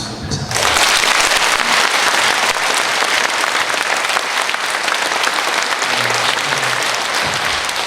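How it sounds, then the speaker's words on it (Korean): Sustained applause from a church audience honoring a priest at an Advent lecture, loud and dense, filling nearly the whole stretch after a brief quiet start. "박수호 신부님한테 박수 다시 한번"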